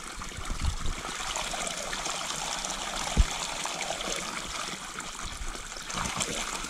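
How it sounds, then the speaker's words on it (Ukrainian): Steady rush of spring water pouring and splashing nearby, a continuous bright flow with one brief knock partway through. "Класне тут джерело, і вода хороша"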